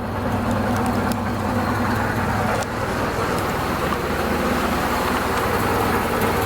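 The engine of a 1930 Ford Model A pickup, off the road since 1986, idles close by with a steady, low, even rumble throughout and no voices.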